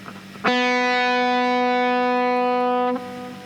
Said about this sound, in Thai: สาย 2 เสียง B ครับ